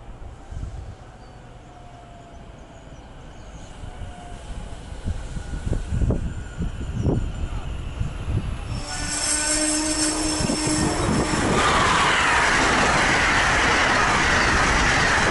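SEPTA Silverliner 5 trains meeting a northbound Amtrak Acela at a station along the Delaware River: rumbling passes with brief wheel squeals and clanks, building into a loud, sustained high-speed roar that fills the final seconds.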